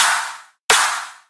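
A future bass snare layered with a clap hits twice, once dry and short, then again with a huge, bright reverb tail that washes out over about half a second. Each hit stands alone with no other sound.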